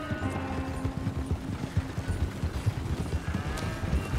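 Horse hooves clip-clop in a steady walking rhythm on a ranch in Red Dead Redemption 2, close and moderately loud with no talking.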